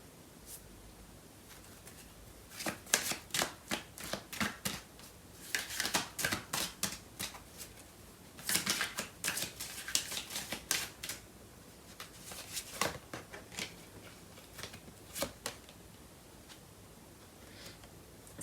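Tarot cards are shuffled by hand in several clusters of quick, crisp riffling taps and flicks, close and fairly quiet, with brief pauses between bursts and no talking.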